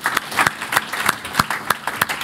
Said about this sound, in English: Let's give a round of applause for Leah.